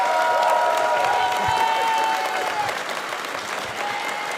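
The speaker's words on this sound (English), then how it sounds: "Can we give it one last round of applause for Mega?" Audience at a furry convention panel claps steadily in a sustained round of applause, a dense wash of hand claps with some cheering, easing slightly toward the end.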